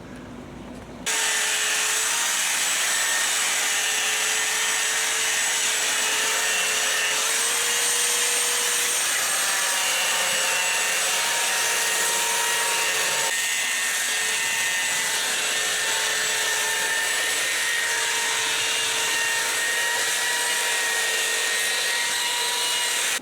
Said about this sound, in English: So now we'll get sanding.